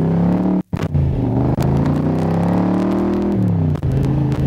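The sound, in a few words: 1965 Shelby Cobra replica engine and exhaust pipes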